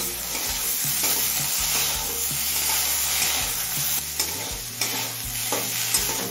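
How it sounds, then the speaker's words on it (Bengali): Vegetables with salt and turmeric fry in a pan over a low-medium flame, giving a steady close sizzle broken by repeated scraping stirs throughout. "এবার সমস্ত সবজি সিদ্ধ হয়ে আসা পর্যন্ত ভেজে নেব"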